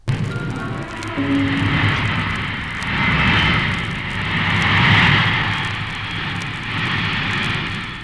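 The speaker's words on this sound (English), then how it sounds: "A bomber out of control on the runway." Bomber plane engines roar steadily on an airfield runway, a broad continuous drone that swells and fades over several seconds with no talk over it.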